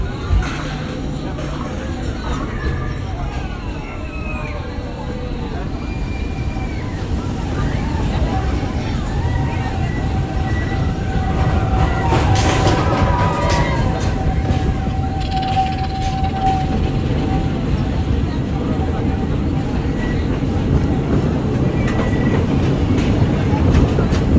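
A mine train ride rattles and rumbles along its track, with clattering wheels, squeaks and a crowd murmuring in the background.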